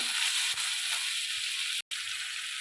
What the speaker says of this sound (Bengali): আমি এখানে পেঁয়াজ কচিগুলো দিয়ে দিলাম তেলের মধ্যে রসুন বাটাটাও আমি দিয়ে দিলাম দিয়ে ভালো করে আমি এটা ভেজে নেবো